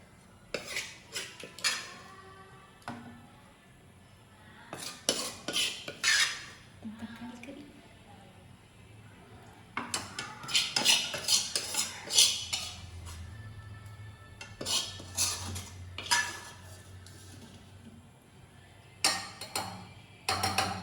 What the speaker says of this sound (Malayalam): തക്കാളിക്കറി ഒരു കുഞ്ഞി പാത്രത്തിലേക്ക് മാറ്റാം